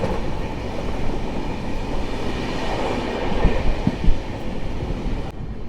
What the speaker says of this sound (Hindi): 5 मिनट की देरी से हमारी ट्रेन पहुंच चुकी है राजा का सहसपुर जंक्शन